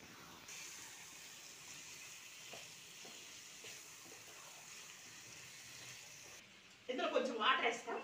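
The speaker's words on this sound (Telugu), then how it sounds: "ఇందులో కొంచెం వాటర్ వేస్తాం." Water is poured into a chicken curry cooking on the stove, starting near the end as a sudden bubbling splash and sizzle after a long quiet simmer in the pan.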